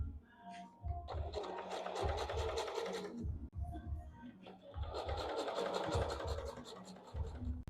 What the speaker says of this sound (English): then you're going to start sewing